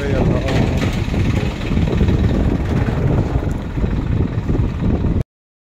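Cold evening wind blowing through a market, a steady, loud broadband rush with low gusty rumble that persists throughout before cutting off abruptly.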